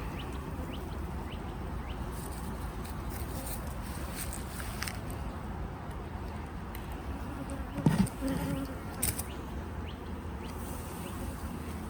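Honeybees in a crowded beehive nuc holding queen cells, producing a steady dense drone throughout, with a brief louder disturbance near the end.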